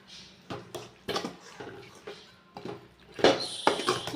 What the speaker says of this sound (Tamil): கொட்டிட்டு இதை ஒரு கிண்டிடலாம் ஃப்ரெண்ட்ஸ்.